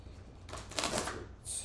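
Tall tarot cards being shuffled by hand, a soft riffling burst in the middle followed by a brief second flutter, quiet and close in an otherwise still room.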